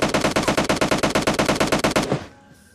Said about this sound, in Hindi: बंदा फायर देता है, तो मैं निकालता हूँ AKM